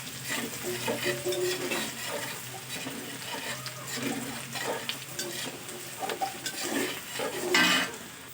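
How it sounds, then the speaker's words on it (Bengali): Chopped onion stirred and frying in oil in a pan for a fish curry, with a steady sizzle under scraping of a spatula and clinks against the pot, close and continuous. "পেঁয়াজটাকে আমি তেলের সঙ্গে ভালো করে নাড়াচাড়া করে নেব"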